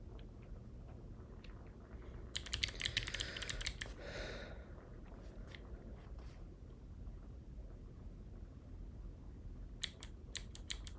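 Soft keystrokes on a ZSA Voyager keyboard come in a brief burst of rapid clicks, then fall quiet over faint background hiss before a short final flurry of typing.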